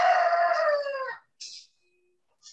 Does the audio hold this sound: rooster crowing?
yes